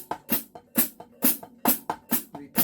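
Snare drum playing steady eighth notes from Joe Morello's master studies, with the first two of each group accented, crisp close strokes in an even repeating rhythm.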